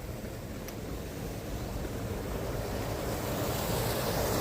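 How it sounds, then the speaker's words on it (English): Cascading waterfalls roar as a steady, broad rushing wash of water in a park setting in Japan, constant and gradually swelling slightly louder, with no talk. "In the background here with the lovely cascading waterfalls."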